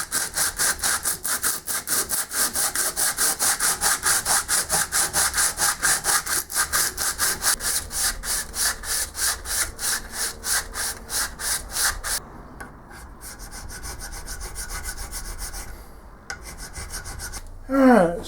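Hand saw cutting grooves into the corner of a wooden lathe tailstock base, a fast, even rhythm of rasping back-and-forth strokes, close and loud for about twelve seconds, then softer scraping, with a brief voice at the very end.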